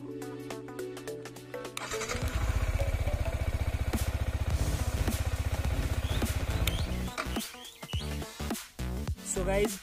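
Motorcycle engine idling with a steady rapid thump, then cut off with the engine kill switch so the running note collapses abruptly into quiet clicks and handling noises, with a voice talking briefly.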